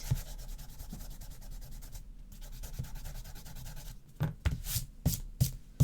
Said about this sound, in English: And I've got mine done, so I can now rub this out.